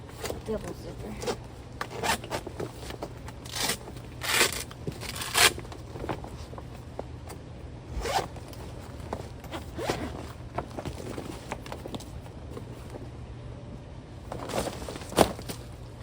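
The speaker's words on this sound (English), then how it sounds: "Don't know where the zipper is. In the middle. Right there. Big old zipper." Zipper on a cargo hitch carrier bag being worked in short bursts, a few quick raspy pulls with pauses of handling and rustling between, fairly close.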